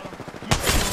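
Burst of video game shooter gunfire erupts midway, loud and dense after a quieter stretch of low rhythmic thumps, sustained to the end.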